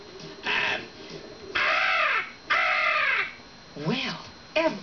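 A human voice imitates a crow's caw, giving several loud, harsh calls in uneven bursts with short pauses, close and alone.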